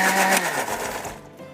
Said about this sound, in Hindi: 1 piece is not blended yet, तो इसको हम ज़रा ब्लेंड कर देते हैं।